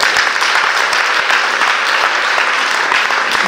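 Loud, close applause from a church congregation, a thick continuous patter of many hands clapping that holds evenly throughout without a break.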